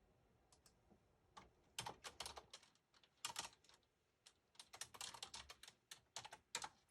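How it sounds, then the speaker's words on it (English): Quiet, close keyboard typing comes in irregular bursts of rapid key clicks separated by short pauses. "Typing."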